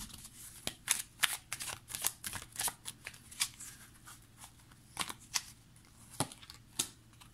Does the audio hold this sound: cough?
no